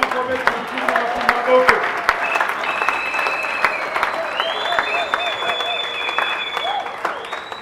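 A church congregation claps steadily and acclaims during a French-language sermon, dense sustained applause mixed with cheering voices and shouts, loud and close, with a preacher's voice rising over the crowd.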